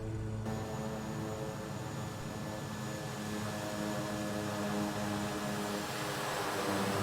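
A small propeller airplane flies nearby, a steady droning engine hum with a low harmonic buzz, loud and continuous throughout, with no voices.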